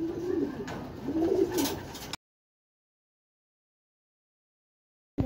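Racing pigeons coo softly at the loft after a derby, with low murmuring calls for about two seconds before the sound cuts to silence.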